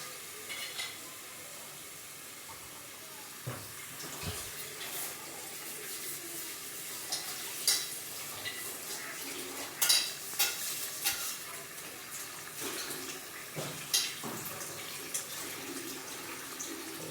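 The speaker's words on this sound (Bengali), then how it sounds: "এখন নাড়াচাড়া করে আপনি ঢেকে দিবেন" Duck meat curry stirred in a pan, a soft sizzle beneath intermittent scraping and clinking of a spoon against the pan, close but fairly quiet, with no talking.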